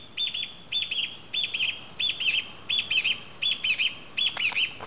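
A bird in Shikoku, Japan, chirps loudly and close, giving a regular series of bright double and triple calls roughly twice per second, alone with no talk.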